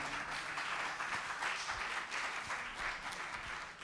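Studio audience applause at the close of a French television programme, a dense steady wash of many hands clapping at a constant level for several seconds with no talking over it.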